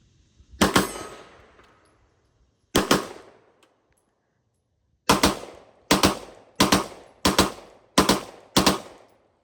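A Glock 17 fitted with a binary trigger fires loud, close gunshots: two single shots a couple of seconds apart, then a quick run of six evenly spaced shots, with no talk between them.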